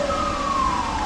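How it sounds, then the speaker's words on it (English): A dam warning siren at Rock Island State Park in Tennessee blares in one sustained, slowly falling wail, loud and continuous through the short moment. "they blare the sirens"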